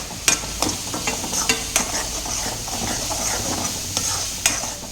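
Ground masala paste stirred and fried in oil for bendekayi gojju, a close sizzle broken by sharp, repeated scrapes and taps of a spoon against the pan, roughly one every half second, with no talking.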